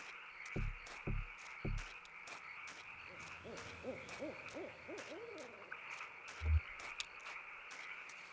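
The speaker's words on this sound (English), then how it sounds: "I hear it all the time. Where is this owl?" Wavering hoots from an owl in the game Kentucky Route Zero rise in a rapid cluster mid-clip, softer and somewhat distant, after three heavy low thuds and over a constant atmospheric hum.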